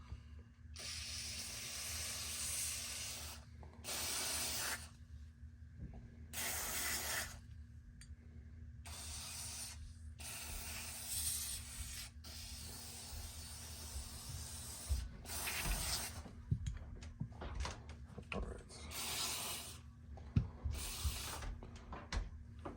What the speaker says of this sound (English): All right, let's spray this down.